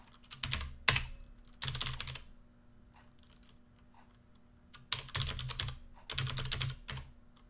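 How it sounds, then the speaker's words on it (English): Computer keyboard typing in short bursts of rapid clicking keystrokes, close and clear, separated by brief quiet pauses, with no talking. "let's just type it in"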